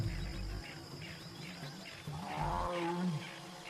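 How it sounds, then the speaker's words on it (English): A tigress roars far off in the wild, a low rumbling roar that rises and falls under steady insect and cricket noise, faint against the background. "way in the distance, I heard a roaring"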